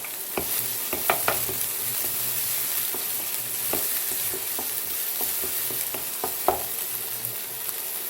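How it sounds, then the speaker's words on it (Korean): Onion and paprika stir-frying in hot cooking oil, a steady sizzle broken by scattered clicks and scrapes of a spatula against the pan. "그리고 파프리카를 넣고 다시 볶아줄 거예요."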